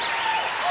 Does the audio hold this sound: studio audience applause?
yes